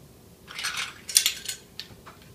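Pre-measured white sugar is tipped into a cookie mixture in a bowl, giving a short, close gritty rush of granules with a few brief clinks from the container, no talking.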